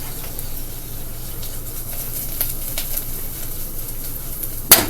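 Onions fry in a hot pan for a grilled cheese, giving off a steady, even sizzle that carries through the whole stretch and ends with a sharp metallic clink.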